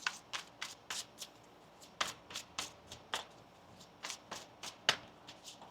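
Tarot cards being riffle-shuffled by hand, a run of crisp papery flutters and snaps in an irregular rhythm, close and fairly quiet with no talking.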